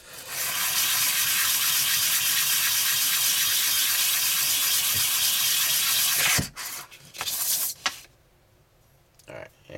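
Sandpaper rubs surface rust off a metal slider frame in a steady, loud, continuous scrubbing hiss that breaks off into a few scattered scrapes and knocks near the end.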